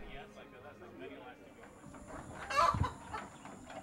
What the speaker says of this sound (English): Chickens are everywhere in Ghana.